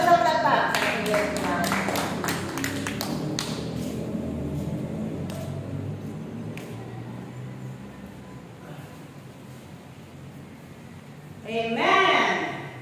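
Congregation applause at a Filipino church worship gathering: a dense burst of clapping in the first few seconds that thins to scattered claps, with voices and a low background hum and a brief swell of sound near the end.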